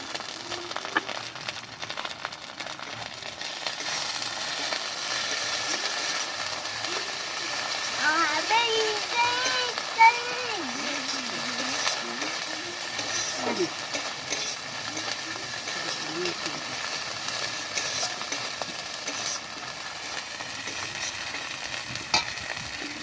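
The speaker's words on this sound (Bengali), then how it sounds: "দিয়ে দিলাম আদা বাটা।" Ginger paste sizzles in a hot pan for doi katla, a Bengali yogurt fish curry, with a steady frying hiss and occasional stirring scrapes throughout, and faint voices in the background.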